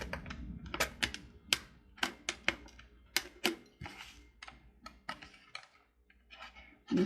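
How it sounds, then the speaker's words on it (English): Scissors cut through a plastic bottle to make a bird feeder, a series of sharp, irregular snipping clicks spaced apart, close and fairly quiet against a still background. "You're going to want to get your scissors in there and just cut"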